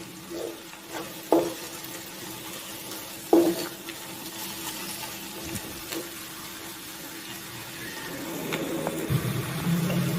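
Okra, onions and garlic ginger paste are stirred in a pan, giving a soft steady sizzle with a few sharp clinks of a spoon against the pan and shifting scrapes as the vegetables are moved.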